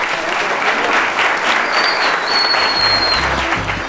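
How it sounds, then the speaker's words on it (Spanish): An audience at a family tribute gives strong, continuous applause, dense and even throughout, with a faint whistle partway through. "pedimos por favor un fuerte aplauso"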